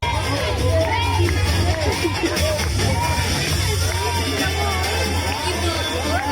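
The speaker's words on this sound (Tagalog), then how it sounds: "Naririnig nyo ba, guys, ang sigawan sa loob ng studio?" Excited shouting and cheering from a crowd inside a studio, overlapping voices and whoops forming a dense, continuous clamor close by.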